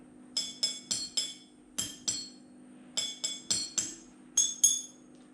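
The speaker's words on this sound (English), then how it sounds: "your own glass bottle xylophone" Glass bottles tuned as a homemade xylophone ring out under a series of struck notes, about a dozen bright clinking tones in small groups with short pauses, close and clear over a steady low hum.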